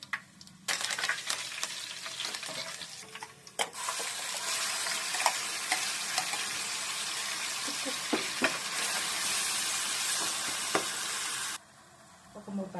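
Fenugreek seeds and cumin sizzle in hot oil for a crab curry, a steady close crackling frying with stirring scrapes throughout, briefly dropping off near the end.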